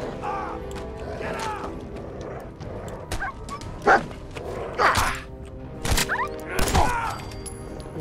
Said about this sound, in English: Don't you dare shoot my dog.